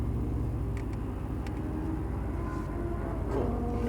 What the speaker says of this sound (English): let the car sit right there in that neutral position and just idle